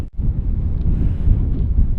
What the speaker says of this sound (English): It's so windy out today, and it's a cold wind too.